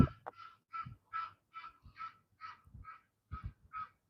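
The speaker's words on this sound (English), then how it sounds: "There are two goose." Two geese honk repeatedly outdoors in Florida, a run of about ten sharp nasal calls in an uneven rhythm, fairly close and clear against a quiet background, with no talking.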